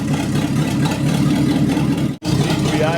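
A 1962 Cadillac DeVille V8, abandoned and parked for over thirty years, idles loudly up close with a rough, steady rumble, briefly dropping out for a split second before the engine resumes.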